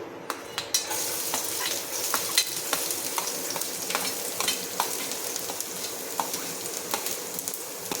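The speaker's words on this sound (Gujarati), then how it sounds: "તો સૌથી પહેલાં આપણે એમાં લસણ નાખી દઈશું" Chopped garlic sizzles steadily in hot oil in a pan while making Gujarati masala pasta, with a constant crackling hiss and repeated clicks of a spoon stirring against the pan.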